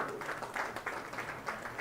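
Faint, distant audience clapping for politicians at a university orientation ceremony, a soft patter of many hands with small swells, heard from far back in a hall.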